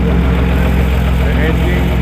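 A Bentley car engine at an ice race, running as a steady, loud low rumble with an idling character throughout, close by and continuous.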